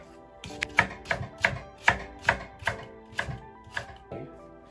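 An onion being cut into large pieces on a board: about ten crisp, evenly spaced knife chops land close and clear, with nobody talking.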